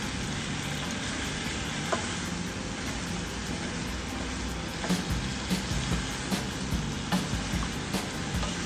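Green curry paste and chunks of winter melon are stir-fried in a pan, giving a steady, close sizzle with rhythmic scraping and tapping of a spatula against the pan, alone without talk.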